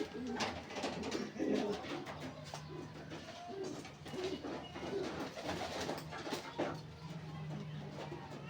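Pigeons coo repeatedly in soft, low, rolling calls close by, with scattered rustling and faint background noise.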